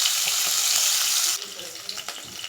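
Green chillies and peas tossed into hot oil in a frying pan, a loud, close sizzle that drops abruptly partway through into softer crackling with light clinks.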